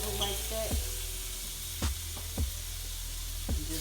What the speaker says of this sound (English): You want your pan to have a nice little heat to it, so it sizzles like that.